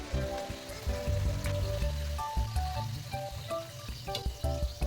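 Sweet corn pakodas deep-fry in oil with a close, dense crackling sizzle, broken by occasional clinks and stirring knocks.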